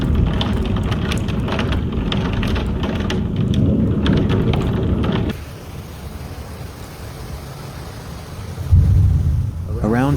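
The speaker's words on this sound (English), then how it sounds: "a dust storm in Mussel Canal was followed by sudden heavy rain and continuous lightning" Heavy rain and a thunderstorm break over Musselkanaal after a dust storm, with lightning flashing continuously. A dense, loud roar of downpour fills the first half, then eases into a softer steady wash with a low rumble near the end.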